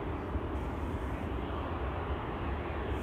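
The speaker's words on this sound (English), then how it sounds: "A340 on the move to runway 24. The Dows A340-600, which will be leaving for Suriname." An Airbus A340-600 airliner taxis toward runway 24 at Schiphol Airport, a steady, dense low engine rumble and roar heard from nearby, with no voices.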